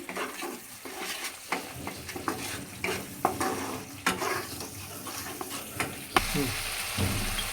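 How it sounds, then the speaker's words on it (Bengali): Turmeric, salt and spices fry in a pan as they are stirred together for a Bengali prawn malai curry, with close repeated scraping and clatter over a running sizzle and a brief splashy burst near the end. "হলুদ দিয়ে দিচ্ছি পরিমাণ মতো স্বাদ মতো লবণ দিয়ে দিচ্ছি এটা মশলার সঙ্গে মিশিয়ে নিচ্ছি"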